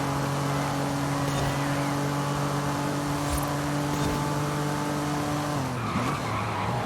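Porsche racing in Forza Horizon 5, engine droning steadily at high revs with tire skids, a continuous loud game-engine tone that dips near the end as the car brakes into a turn.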